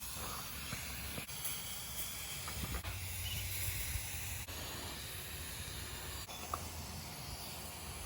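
Sof Sole waterproof aerosol spray hisses steadily onto a fabric cover of about four by four feet, a continuous close broadband spray with brief pauses and small clicks throughout.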